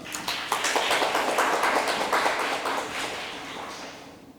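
A seminar audience claps as a blockchain lawyer comes up to speak at a legal session, a moderate patter of hands that fades gradually toward the end.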